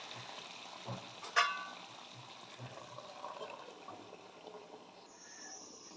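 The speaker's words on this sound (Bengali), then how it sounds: "গ্যাসটা কমিয়ে দিচ্ছি, লো ফ্লেমেই হোক আস্তে আস্তে রান্নাটা।" Bottle gourd and shrimp curry cooking covered in a pot on a low gas flame, a soft steady simmering hiss and faint bubbling with one brief clink partway through, no talking.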